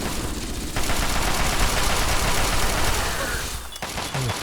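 A laser minigun in Fallout 3 fires a sustained, loud, dense stream of rapid shots that fills the scene for several seconds before cutting off, then briefly resumes.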